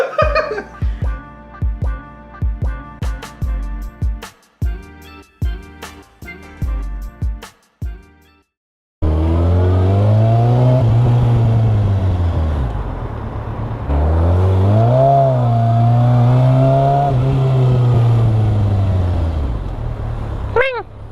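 A motorcycle engine warms up with a deep, loud rumble whose pitch rises and falls as the revs change. It follows a run of sharp, rhythmic percussive knocks.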